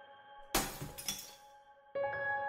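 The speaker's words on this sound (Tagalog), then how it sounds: "Narinig ni Nana yung nabasag na baso" A sudden crash of a dropped glass of water shattering, followed by tinkling fragments, over a steady tonal background hum that swells again near the end.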